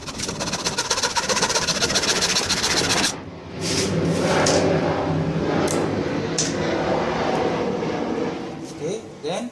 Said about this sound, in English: Then I'll cut it using a hacksaw.